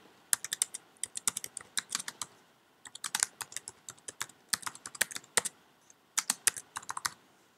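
Steady typing on a computer keyboard while entering a blog post title, with quick bursts of crisp, close key clicks separated by short pauses.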